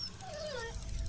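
A hungry dog whimpers in the survival game Sheltered, a rising then falling whine over a steady low background hum, heard alone without talk.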